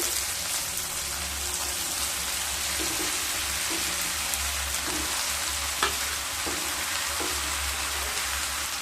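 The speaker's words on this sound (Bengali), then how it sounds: "পেঁয়াজ আর টমেটোগুলোকে খুব ভালোভাবে ভেজে নেব" Onions, tomatoes and grated papaya sizzle steadily in a hot pan, a continuous close frying hiss with occasional soft stirring knocks.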